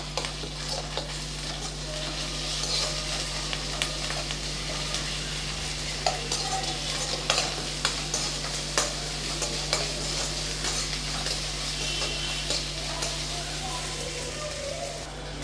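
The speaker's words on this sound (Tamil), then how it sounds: "கொஞ்சம் பச்சை வாசனை போகிற அளவுக்கு நல்லா வதக்கி விட்டுறலாம்." Ginger garlic paste and green chillies sautéing in a hot pan, a steady close sizzle and frying crackle running throughout with occasional stirring clinks, no talking.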